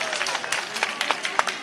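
Audience at a political rally clapping, a short burst of scattered hand claps and crowd noise that is fairly close and uneven, with some voice mixed in.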